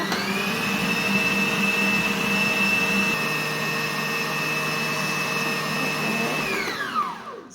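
A blender whirs with a high, steady motor whine as it mixes pumpkin cake batter made with oil, running loud and continuous for several seconds before spinning down at the end.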